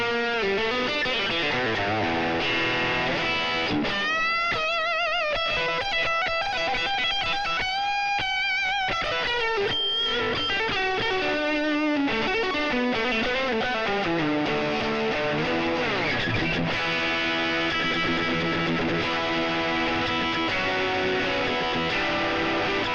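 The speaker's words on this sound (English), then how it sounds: "Let's hear how it sounds in Distortion." Electric guitar played through a distortion setting on a Snap Dragon Snap Axe E folding travel guitar, a loud, continuous run of saturated chords and melodic lines lasting over twenty seconds with no talking.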